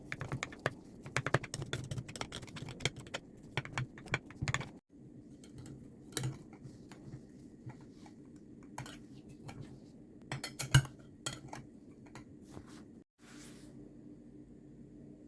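A knife cuts through a cooled baked quiche on a plate, with light scattered clicks and taps of the blade against the dish at irregular intervals, quiet and close.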